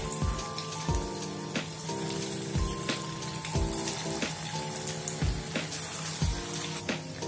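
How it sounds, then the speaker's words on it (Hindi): Marinated chicken 65 pieces fry in hot oil with a dense, rain-like crackle and spatter that pulses rhythmically, while tonal background music plays underneath. "अब हम इसको ऑयल में फ्राई करेंगे।"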